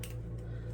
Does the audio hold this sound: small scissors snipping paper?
yes